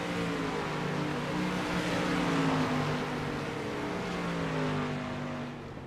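Street stock race cars in the iRacing video game run together on Lakeland's track, a dense, loud drone of several engines overlapping steadily before easing slightly at the end, with no voices.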